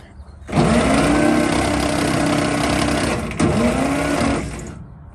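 An old 1948 Dodge farm truck engine, with freshly unstuck valves, is cranked over by the starter: a loud, rapid, whirring churn lasting about four seconds, with one brief hitch partway through, without catching and running.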